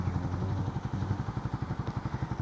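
Motorcycle engine running on a ride from Davao to Carmen, North Cotabato, a steady low rhythmic throb with clattering pulses and road rumble, moderately loud and continuous, with no talking.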